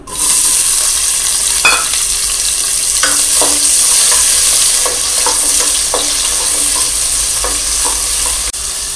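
Onions sizzle loudly in a pan for an idli kurma, a continuous close frying hiss broken by scraping stirring strokes, with no voices.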